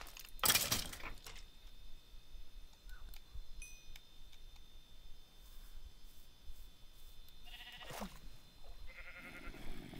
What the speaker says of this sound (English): Yes, thank you, sheep.